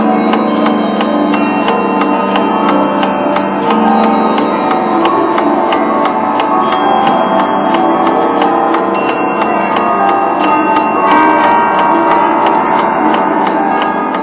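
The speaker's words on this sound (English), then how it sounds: "synchronized them all to chime at the same time" Nearly a thousand clocks in a clock shop chime together at once, a dense, continuous wash of overlapping bells and ringing tones that stays loud and steady throughout.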